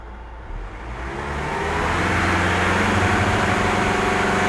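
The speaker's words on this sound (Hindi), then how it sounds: "इस कंडीशन में देखिए हम गाड़ी को एक्सीलेट कर रहे हैं" A car engine revs up in a rising, droning acceleration that swells steadily louder and then holds at a strained, vibrating plateau, close and without speech.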